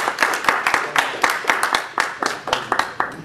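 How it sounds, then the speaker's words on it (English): An audience claps for a lecture speaker, a steady stretch of hand claps from a modest crowd, close and continuous with no talking. "So we give a round of applause just to thank our speaker."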